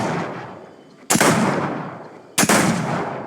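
Two booming shotgun blasts from a video game, fired in quick succession about a second apart using a double six-shooter weapon swap, each loud and followed by a rumbling decay.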